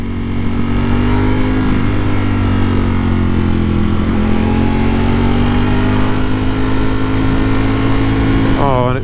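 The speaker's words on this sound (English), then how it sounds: "That blipper, it gets even better the higher up the rev range you go." Ducati Panigale V4 motorcycle revving hard, its loud, steady engine drone climbing through the rev range, with a rapid rising sweep of revs near the end as the quickshifter blipper works.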